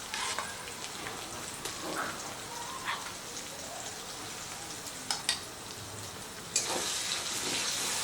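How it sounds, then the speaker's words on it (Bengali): Spice mix being stirred and fried with onion and garlic in a pan for Amritsari paneer bhurji, a steady close sizzle with crackling pops and occasional scrapes, growing brighter and louder near the end. "মশলাটাকে দিয়ে একটু সব কিছুর সাথে ভালো করে নাড়াচাড়া করে দিচ্ছি"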